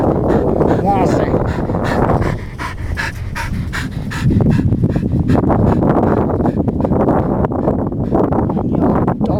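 A dog pants hard and rapidly on a windy Welsh beach at Talacre, the breathing loud and close in steady bursts, with wind buffeting the microphone and people talking in the background.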